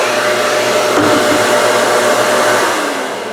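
A shop vacuum keeps running after a cut with a Festool OF 1400 router, a steady loud broadband roar close by that eases slightly toward the end.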